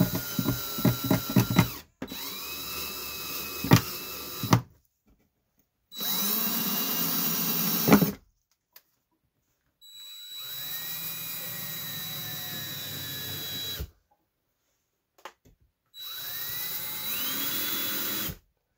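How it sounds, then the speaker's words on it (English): A handheld power drill driving screws through trellis netting frame into an indoor wall, whining in bursts of a few seconds each, separated by short silences, close and loud. "Then I put screws evenly spaced across the bottom and the top."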